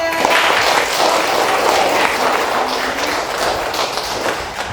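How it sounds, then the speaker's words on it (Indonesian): Students in a classroom lesson give a lively round of applause, many hands clapping densely and close by with a few table thumps mixed in, fading slightly toward the end. "ada tepuk tangan ya"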